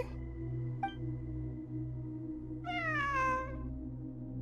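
A cat meows within a video game, two short chirps followed by one drawn-out, falling meow over a steady low droning background.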